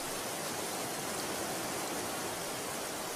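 Water runs continuously out of a beaver pond as it drains, a steady rushing hiss with no pauses, moderately quiet and even throughout.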